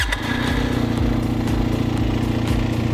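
A Benelli Tornado 302R's 300cc inline water-cooled twin-cylinder, eight-valve engine runs at a steady, close, loud idle with an even throbbing burble.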